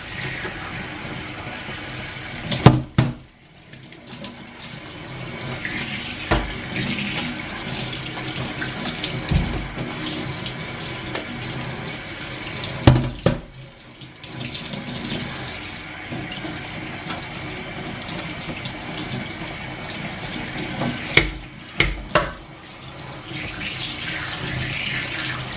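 A metal colander is rinsed under a running kitchen tap, with a loud, continuous splashing stream broken by brief pauses and clanks as it is turned and the water is spread around.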